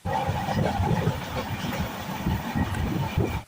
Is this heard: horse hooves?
no